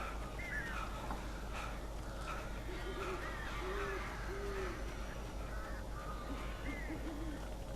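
Bird calls ring out in the video game Alan Wake, a scatter of chirps and short warbling cries over a steady low ambient hum, with a few lower honking notes in the middle.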